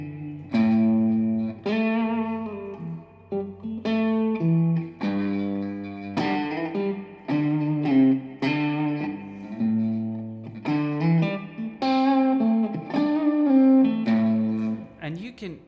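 Bass guitar improvising a groove, landing a bass note on the one and filling around it as if a band were playing, plucked notes in a loose, syncopated rhythm, close and clear, alone without talk.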